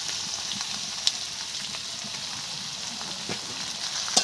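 Prawns frying in oil-released spice paste (bata masala) for a jackfruit and prawn curry, a steady soft sizzle throughout with a few faint pops and crackles, no voices.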